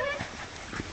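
A dog makes a short, close whimpering yelp in a home, with faint household noise and no talk over it.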